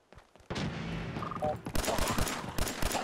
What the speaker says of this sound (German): Irgendjemand hat da gerade mit der Laserpistole geschossen.